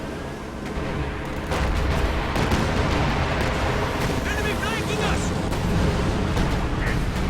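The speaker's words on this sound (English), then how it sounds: "Time on target. Artillery." Artillery barrage in the strategy game Company of Heroes 2, a dense, continuous rumble of distant shell impacts and booms layered under a commentator's voice.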